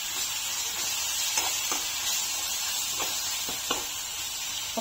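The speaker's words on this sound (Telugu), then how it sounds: "ఒక్క 1 మినిట్ ఈ అల్లం వెల్లుల్లి పేస్ట్ కూడా మంచిగా ఫ్రై అయిపోతుంది." Mutton liver frying in a pan with ginger garlic paste, giving a steady bright sizzle with a few soft stirring knocks and no talk.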